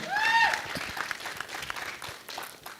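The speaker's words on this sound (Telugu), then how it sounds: "మీ చప్పట్లకు ఎప్పుడు దాసోహం నేను" An audience claps in steady applause at a film success meet, filling the room throughout, with a brief whistle near the start.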